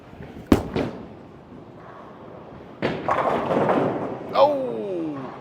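A bowling ball from a limited-edition Motiv Jackal, thrown by a professional bowler on a league-style lane pattern, crashes into the pins with a loud scattering clatter after an earlier thud, with speech heard over the ambient alley noise.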